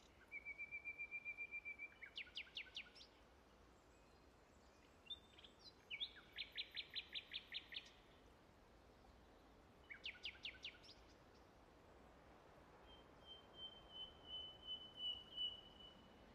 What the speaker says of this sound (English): It's a nightingale.